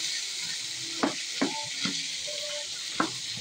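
Ground pork and potatoes stirred in a pan over heat, a spatula scraping in a few distinct strokes against a steady background sizzle.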